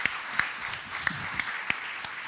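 An audience at a volunteers' meeting applauds, with a few distinct claps standing out over a low, murmuring background.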